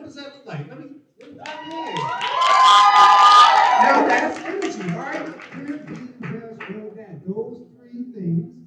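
A stage audience at a poetry performance event bursts into energetic clapping and cheering, rising to a loud peak of shouts and claps before tapering into scattered cheers and talk.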